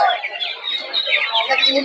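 Tiger-breed chicks cheeping and chirping steadily in a busy high-pitched chorus, close by, with no pauses, at a poultry and bird market.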